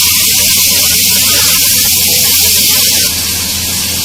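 Spinach and chicken frying with turmeric, chili, coriander powder and salt for palak gosht, giving a steady, loud sizzling hiss throughout that eases slightly near the end.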